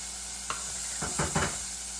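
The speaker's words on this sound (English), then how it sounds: "I can hear it sizzling." Soft, steady sizzling hiss of food frying in a pan, with a few light scraping taps of a utensil, quiet and close.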